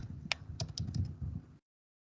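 Computer keyboard typing in a classroom-style lecture setting, a quick burst of several key clicks with one sharp stroke early on, close and fairly quiet, then cutting to silence.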